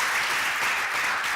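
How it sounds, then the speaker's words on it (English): Applause from a workshop audience, a dense, steady wash of many hands clapping with no pauses. "If we can give them all a round of applause again"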